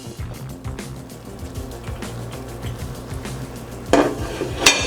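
A lid is lifted off a pot of Texas red chili after about four hours of cooking, with a sharp metallic clank and rattle near the end over faint kitchen clatter.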